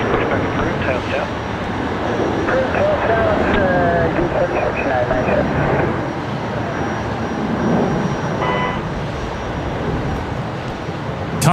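A Boeing 787 airliner taxiing at Brisbane Airport gives a steady, broad engine roar that holds for the whole stretch, with a voice talking over it.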